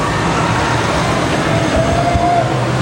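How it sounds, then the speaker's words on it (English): A roller coaster train passes at Disney's California Adventure theme park, a loud continuous rolling rumble with a brief high squeal, heard close and alone. "So here comes the train."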